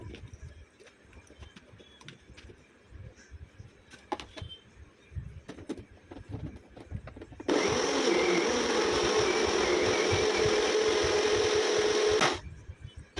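Faint clinks and handling noises, then a mixer grinder whirs loudly and steadily for about five seconds, grinding tomato masala with a little water, before cutting off abruptly.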